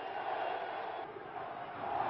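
Protest crowd surging toward the Parliament amid tear gas, a dense continuous roar of many voices at steady loudness, slightly swelling near the end, with no distinct words.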